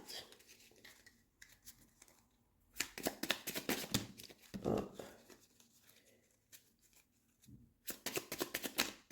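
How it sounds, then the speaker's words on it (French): Tarot cards are shuffled and drawn from a deck in quiet bursts of rapid papery riffling and flicking, separated by pauses and a soft thump, all close and fairly faint. "Je tire une dernière carte."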